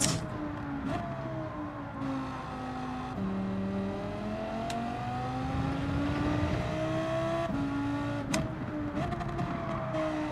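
A McLaren race car in Gran Turismo 7 drones steadily at high revs, its engine pitch sweeping up and down through gear changes and corners, loud and close with no talk.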